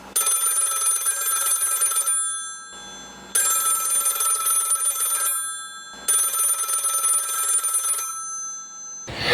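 Telephone bell ringing as a radio-play sound effect, three long bursts of about two seconds each with short pauses between, loud and close with no talk.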